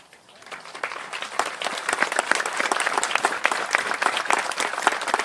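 Audience applause for standing service members and veterans at a VFW event swells from quiet to a full, sustained round of dense clapping by many hands, steady and close.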